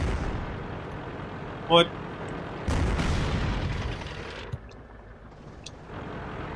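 A heavy artillery-style boom in the tank battle game World of Tanks hits sharply and rolls into a lingering rumble over steady battlefield noise, shortly after a man's brief spoken exclamation.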